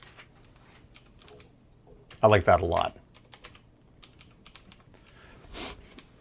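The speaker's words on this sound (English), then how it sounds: "What on earth are you typing over there?" Soft, scattered keystrokes tap on a computer keyboard throughout, quiet and close, interrupted by a short burst of speech in the middle.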